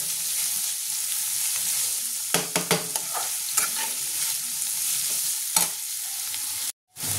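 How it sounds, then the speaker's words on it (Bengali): Chicken pieces stir-frying in a pan for chowmein, a steady close sizzle punctuated by clattering spatula strikes and scrapes, cutting out briefly near the end, with no talking. "বেশি লাল করবো না, একটু হালকা সেদ্ধ হওয়া পর্যন্ত ভেজে নেব।"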